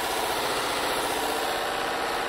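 A high-speed 2 HP polishing machine motor without an inverter, used for polishing bone knife handles, runs in a steady, dense, loud whine and roar with no change and no talk.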